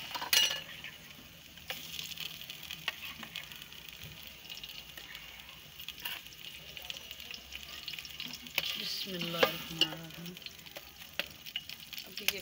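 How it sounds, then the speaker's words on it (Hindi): Quiet sizzling of ghee in a pan during a chicken wings rice dish, faint crackle with occasional clinks of a utensil against metal, a brief louder burst near the end, no talk. "अभी ये मैं घी डाल रही हूँ।"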